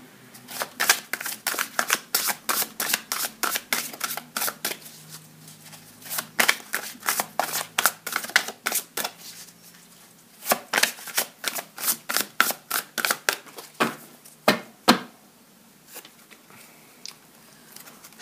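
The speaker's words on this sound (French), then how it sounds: "Je vais tirer les cartes du cœur, on va voir un peu où ça va" Tarot cards being shuffled and drawn at a table, a long run of quick, crisp riffling and slapping bursts, close and clear, in repeated rounds with short pauses between them.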